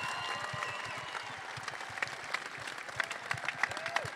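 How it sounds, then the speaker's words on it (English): An audience at an LGBTQ postgame panel with Megan Rapinoe and Sue Bird applauding the panelists, moderate continuous clapping heard from a distance, with a few sharper claps standing out toward the end. "Can we get another round of applause for our panelists?"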